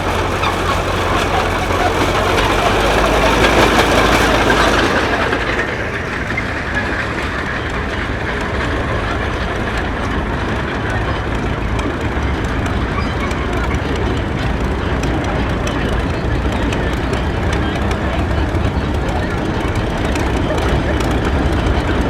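A big antique tractor passes at a Maryland steam show with a loud, steady mechanical rumble that swells, then settles into a continuous drone, while an announcer talks over it.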